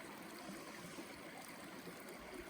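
A mountain river on the Uinta Highline Trail flows steadily, a soft continuous rush and trickle of water heard fairly quietly with no talking.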